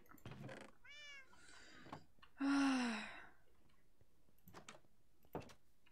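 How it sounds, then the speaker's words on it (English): A cat meows in the game Minecraft, a sequence of short, rising game-style mews and one longer, louder cry near the middle, with small clicks and quiet gaps between. "Cat."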